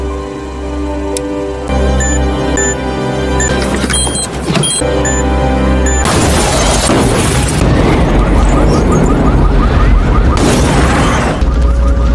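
A bomb explodes in a film scene, a sudden loud booming blast with a crashing roar that follows a tense, tonal stretch and fills the second half.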